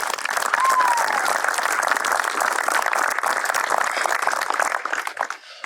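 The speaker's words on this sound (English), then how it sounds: "Let's give them a big round of applause." A large crowd applauds warmly and continuously, dense clapping that holds steady before tapering off at the end.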